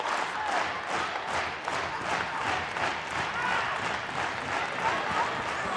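An impatient crowd at a judo match fills the arena with a dense, continuous murmur of voices and scattered shouts, steady and fairly far off, with no single sound standing out.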